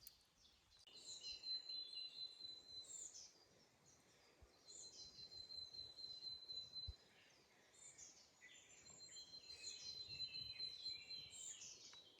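Birds chirp and sing in short repeated phrases at a distance, over a faint outdoor hush with insects buzzing softly.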